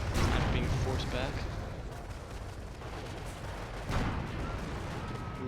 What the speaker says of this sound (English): Ooh, Calliope coming in.